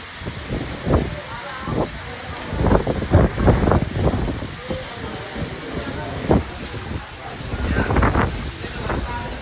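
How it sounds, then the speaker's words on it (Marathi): Heavy rain driven by storm wind during a pilgrimage walk in Andhra, heard as steady roaring wash with gusty buffeting against the microphone, loud and close, with no talk. "जरा झोपावं म्हणलं तोच असता भयानक पाऊस चालू झाला, नुसता वादळवात"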